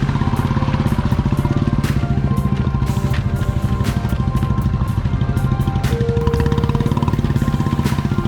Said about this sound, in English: we took Royal Enfield 350cc and Continental GT 650cc twin cylinder to the hilltop